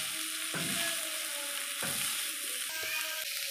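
Sliced capsicum, two peppers cut lengthwise, is stir-fried in a pan, giving a steady sizzle with three rhythmic scraping stirs of a spatula, close and even throughout.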